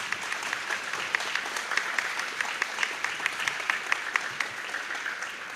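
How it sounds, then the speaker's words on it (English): A crowd applauds at a Darlington High School spring concert for the band and choir, producing a sustained wash of clapping from many hands that holds at an even, moderate level throughout, with no one speaking. "Let's give these folks a round of applause."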